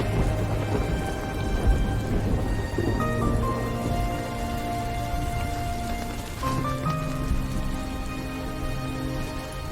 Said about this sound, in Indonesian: Maaf ya nak, kita harus hujan-hujanan, gak apa-apa kan?